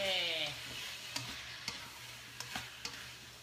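Sweet and sour stir-fry sizzling steadily in a pan, with a few light clicks of the utensil against the pan and a brief whine at the start.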